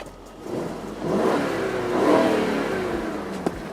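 A Mercedes S500L V8 engine, heavily silenced, revs up smoothly in sport mode, rising and falling in pitch at moderate loudness, subdued and distant-sounding, with no voices.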